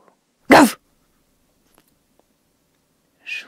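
A human voice imitates a dog's bark while telling the Russian fairy tale of the turnip: one sharp, close "woof" burst, followed after a quiet pause by a softer, breathy sound.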